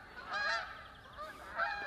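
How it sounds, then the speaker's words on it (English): Geese honk a few times in a short burst, faint and somewhat distant, calling as they fly back and forth over a garden. "Here are geese going back and forth."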